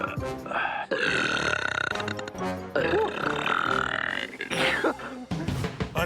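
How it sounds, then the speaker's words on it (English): A man letting out long, loud burps during a burping contest on the Wipeout Canada television show, the drawn-out belches running back to back with brief breaks between them. "I think I'm going to burp."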